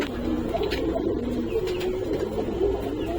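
Soft, low pigeon coos repeat steadily over a quiet hum in a sixth-floor rooftop pigeon coop at night, with faint wing flutters and rustling nearby.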